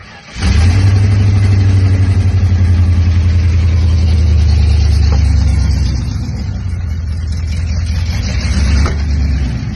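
A loud, raspy truck engine with straight-pipe headers, exhaust manifold and catalytic converter cut out, starts abruptly and revs with a deep, rumbling exhaust, then settles to a steady throaty idle with occasional blips, close by.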